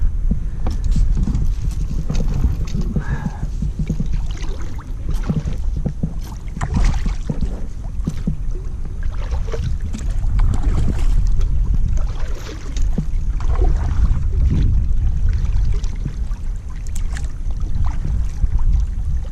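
An Ascend 128T kayak being paddled on open water, rhythmic splashes and knocks of paddle strokes with hull thumps and wind rumble, close and fairly loud throughout.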